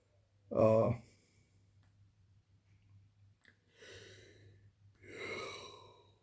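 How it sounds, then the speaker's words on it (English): Up close in a quiet room, a person yawns: a short voiced gasp, then two long, breathy exhales after a pause. "excuse me, I yawned right in your face"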